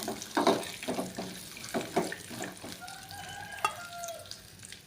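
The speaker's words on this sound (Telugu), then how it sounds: "కొంచెం జీడిపప్పు కొంచెం ఎర్రగా వచ్చేంత వరకు ఇలా ఫ్రై చేయాలన్నమాట" Cashew nuts and dried coconut pieces fry in a pan for payasam, with repeated scraping stirs over a faint, soft sizzle and a brief squeaky tone near the end.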